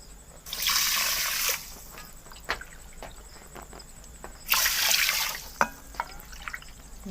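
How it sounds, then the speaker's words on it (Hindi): Water is poured into a cooking pan to make sugar syrup for rice-flour rasgulla, in two steady splashing bursts of about a second each with small drips and clinks between them. "शीरा तैयार करने के लिए पैन के अंदर हम 1 कप चीनी डालेंगे और इसके अंदर डाल देते हैं 4 कप पानी"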